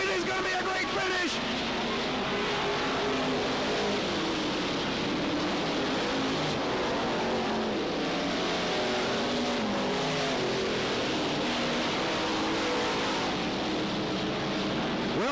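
Race cars roar continuously around a speedway oval during the 1991 Cottage Grove Speedway Fall Classic, loud dense engine noise filling the whole stretch with a commentator's voice over the top.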